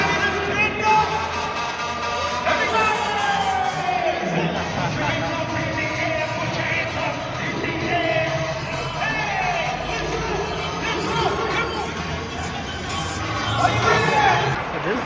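Arena crowd noise at an Ottawa Senators versus New York Rangers NHL hockey game, a constant loud roar of chatter and occasional shouts, with a nearby person talking over it throughout.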